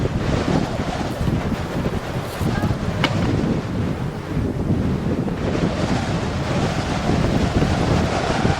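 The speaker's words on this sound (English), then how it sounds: "it is incredibly windy" Strong wind gusts buffet the microphone near a glacial wall in Torres del Paine, a loud continuous roar with rumbling low-end gusts throughout.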